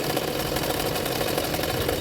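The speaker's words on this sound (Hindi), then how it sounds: "प्लेट की किनारे किनारे पे एक सिलाई डाल दूंगी" A sewing machine runs steadily, stitching along the folded pleat edges of a double katori blouse with a continuous, close whirring hum and no pauses.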